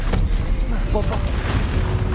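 A Bombarda spell blast goes off in Hogwarts Legacy, a heavy, booming rumble that fills the whole short moment with a dense low roar and scattered cracks.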